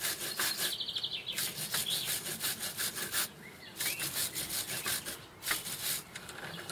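A wire brush scrubs a Tabakmaster Delux 100 Plus tobacco cutting machine in rapid back-and-forth rasping strokes, loud and close, pausing briefly a couple of times.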